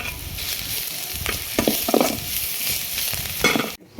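A potato masala for bonda filling, mashed boiled potatoes with chilli powder, fennel powder and turmeric, is stirred and fried in a pan. It gives a steady sizzle with scraping stirring strokes throughout, close and fairly loud, with no talking.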